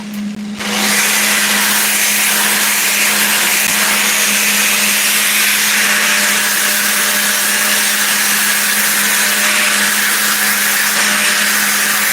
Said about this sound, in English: Grind off welding BBs.